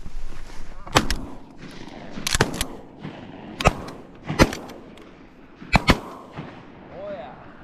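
Video game gunfire: a series of sharp, separate shots arriving singly and in quick pairs, fairly close and punchy, with faint background noise between.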